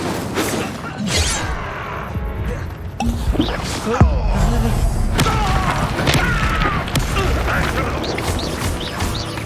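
The Incendio fire spell cast during combat in the Hogwarts Legacy video game, a burst of whooshing fire among booms, crashes and impacts over game music, loud and continuous.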